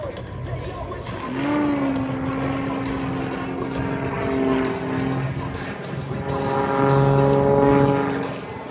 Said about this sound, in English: Now he's going to reposition, pull it up into the Cobra.